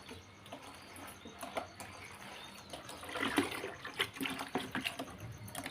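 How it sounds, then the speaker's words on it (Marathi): Water being filled for drinking in a home setting, a soft trickling and splashing that swells in the second half, faint and uneven with scattered small clatters. "तर हे बघा, इकडे माझं पाणी भरायचं काम चालू आहे."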